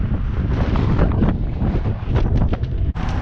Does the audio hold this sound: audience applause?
no